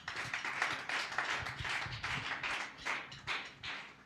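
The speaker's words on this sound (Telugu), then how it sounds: "చప్పట్లు కొట్టి." Congregation at a church prayer meeting clapping hands in a steady, rhythmic pattern, many hands together filling the hall at moderate loudness with no voices over it.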